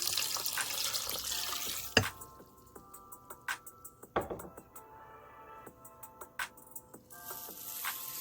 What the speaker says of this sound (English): six cups of water